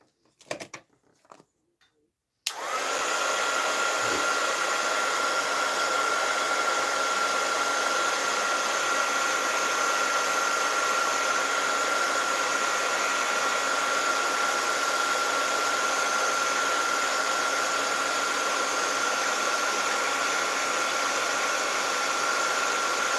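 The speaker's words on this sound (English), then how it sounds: "now I'm going to hold these with my tweezers and heat emboss them" A heat gun is used for heat embossing small craft pieces held in tweezers. After a few brief handling noises it switches on and blows with a steady, loud, hair-dryer-like whoosh and hum that lasts for about twenty seconds.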